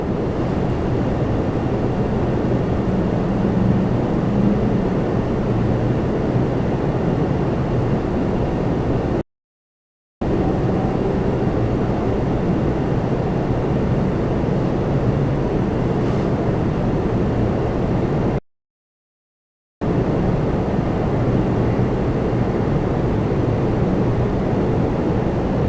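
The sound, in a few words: Republic Airways Embraer 175 jet arriving at Toronto Pearson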